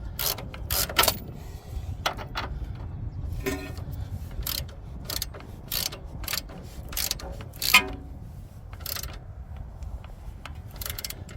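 Hand ratchet turning bolts during an automatic transmission replacement on a D16Y5 engine car, a series of sharp clicking strokes in uneven bursts over a steady low background hum.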